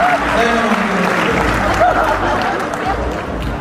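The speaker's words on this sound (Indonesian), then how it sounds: "tepuk tangan buat Pak Andi" An audience at a Solo motivational seminar claps for a participant, Pak Andi, after a mind-reading demonstration; loud, continuous clapping mixed with crowd murmur and a voice over it.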